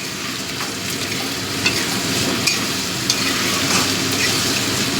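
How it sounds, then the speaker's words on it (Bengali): Onion sizzling and frying in hot oil in a pan, for a spicy Bengali batashi tangra fish curry with potato, with steady crackle and a few sharp stirring clicks, close and alone. "তেলের মধ্যে পেঁয়াজটা দিয়ে দেবো"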